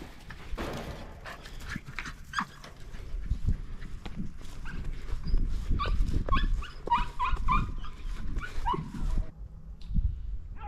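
Hunting dogs bark, yip and whimper during a rabbit hunt in Pennsylvania, an excited chorus of overlapping barks close by, with movement and rustling underneath and no talk.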